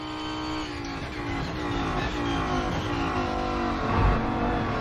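A race car engine in the Rennsport sim racing game roars continuously at high revs, its pitch wavering as the car slides and the throttle shifts, loud and steady with a brief bump near the end.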